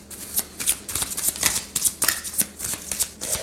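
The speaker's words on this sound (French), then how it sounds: "je vais faire un tirage en 5 cartes" Tarot cards being shuffled by hand before a five-card reading, a steady run of crisp riffling bursts and soft slaps repeating every half second or so, close and fairly loud with no talking.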